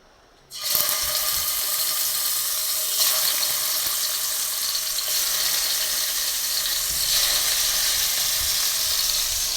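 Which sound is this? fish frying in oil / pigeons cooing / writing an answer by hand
fish frying in oil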